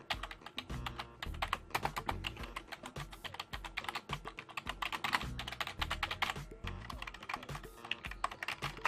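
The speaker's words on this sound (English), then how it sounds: "For those of you who are dying to hear what the keys sound like when pressed." Fast, continuous typing on a Tecknet Gryphon membrane gaming keyboard, with dense, close-up clacking keystrokes that form a busy, uneven rhythm and no voice over them.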